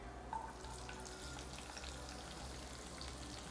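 Hot oil heats in a pan for an egg side dish, giving a faint, steady sizzle and soft crackle with no voices.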